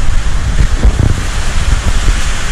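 Typhoon Ulysses wind in the Philippines at night, a steady broadband roar with gusty low rumbles buffeting the microphone, continuous and fairly loud, with no voices.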